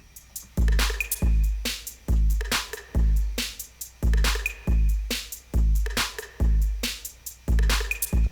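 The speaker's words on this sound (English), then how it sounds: "And here's what it sounds like with the drums." A cover's percussion layered with Satala plugin drums, a punchy, steady groove of deep kicks and sharp snare-like hits repeating in a tight, loud pattern throughout.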